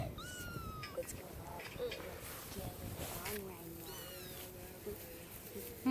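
A kitten or young cat meows repeatedly in thin, rising and falling calls, near and clear, interleaved with a person talking affectionately to it over a low, steady background hum.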